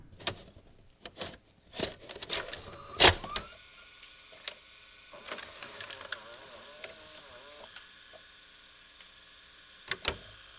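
A videocassette being loaded into a player: mechanical clicks, a clunk, then whirring motor noises and a couple of sharp final clicks, close and quiet.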